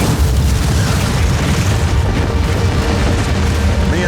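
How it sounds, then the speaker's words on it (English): A continuous, loud, rumbling low boom fills the whole stretch, dense and unbroken like an incoming artillery shell explosion and wartime bombardment, with no separate impacts or voices standing out. "I hear an incoming shell"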